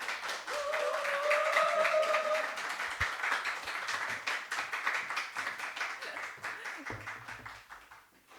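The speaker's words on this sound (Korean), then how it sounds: "우리 박수로 모시도록 하겠습니다" A church congregation applauds to welcome a guest speaker at a Sunday joint worship service. The clapping is steady and fairly loud, then tapers off, with a voice briefly heard partway through.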